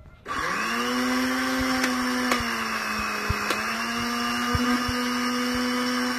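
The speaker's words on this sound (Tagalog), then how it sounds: "So, durugin natin hanggang mapino sila lahat." An electric blender grinding herbal plants into a fine mash, a loud steady motor whir starting abruptly and holding constant, with faint clicks of the blades striking the leaves.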